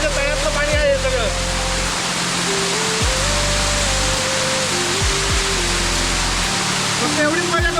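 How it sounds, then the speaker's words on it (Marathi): A hidden waterfall near Bhal village, water pouring down from high above in a constant loud roaring rush, with a voice and a vehicle engine droning beneath it. "हा आम्हाला रस्त्यावर आता दिसल्यावर आम्ही तर घुसलो आणि पूर्ण वरपर्यंत पाणी पडते"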